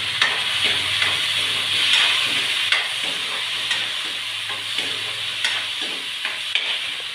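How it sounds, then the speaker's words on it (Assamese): Dal being tempered with hot oil in a pan gives a steady, close sizzle and hiss, with rhythmic stirring clicks and scrapes running through it and no voices. "আজি তেল মাৰিম দালিটো তেল মাৰি দিওঁ আজি"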